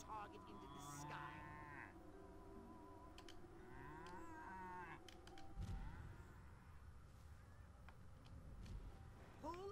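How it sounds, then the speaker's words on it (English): Cows moo in the Destroy All Humans video game, drawn-out lowing calls layered over game sounds and background noise, fairly faint. "Then hurl the bovines by double tapping the Y button."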